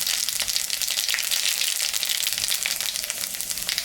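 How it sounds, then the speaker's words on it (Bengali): Dried red chillies and panch phoron temper in hot oil left over from frying fish, giving a dense, close, continuous crackling sizzle with no talking. "মাছ ভাজা তেলের উপরে শুকনো লঙ্কা পাঁচফোড়ন আর আধুনিক সম্বরা দিলাম"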